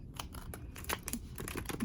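Tarot deck shuffled by hand, quick soft riffling card flicks and taps coming in a rapid irregular patter, close and fairly quiet, with no talk.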